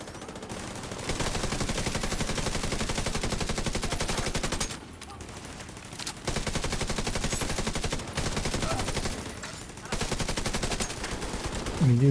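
A turret machine gun fires in a video game, long loud sustained bursts of rapid gunfire with brief pauses between volleys.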